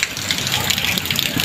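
Heavy rain pours down around a vehicle on the road, a loud, hissing wash of water with a low rumble underneath that persists without a break.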